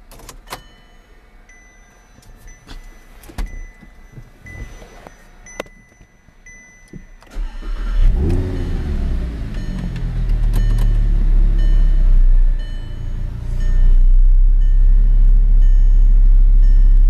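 An Audi R8 V10 5.2-litre quattro engine is started after a key turn, then revved, its deep roar building to a loud sustained howl after a few quiet clicks and interior sounds.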